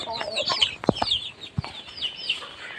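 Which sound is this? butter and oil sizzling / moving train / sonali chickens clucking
sonali chickens clucking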